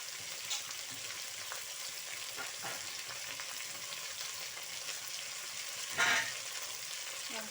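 Mixed vegetables, including ivy gourd, bottle gourd and carrot, sizzle steadily in a frying pan, with a soft continuous hiss and one brief louder burst near the end, no voices.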